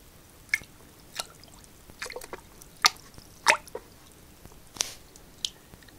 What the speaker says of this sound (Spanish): las demás cargas las limpiaré aquí en agua del acuario.